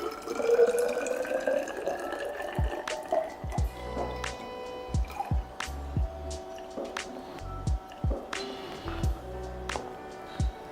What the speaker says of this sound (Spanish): Y le ponemos 100 mililitros de agua destilada.